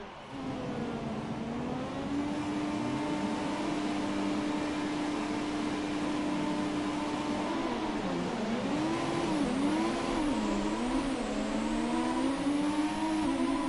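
Race car engines in F1 2017 scream up through the revs at a race start, a loud steady whine that sweeps and wobbles in pitch as gears change, with no talking.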